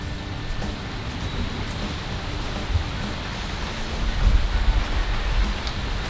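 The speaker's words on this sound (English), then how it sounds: "We finally get some beautiful rain, but it knocks out the power." Steady rain falls in a broad, even hiss with low rumbling, swelling slightly louder near the end; no voices are heard.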